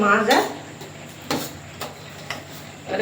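A fish curry being stirred in a pot, with a few clear utensil scrapes and knocks against the metal spaced across a quiet background, and a brief voice at the start.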